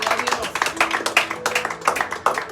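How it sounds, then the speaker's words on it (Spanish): A church congregation claps hands in rhythm during a Spanish-language sermon, a steady run of sharp, fairly close claps with voices mixed in underneath. "Dele palmas al Señor."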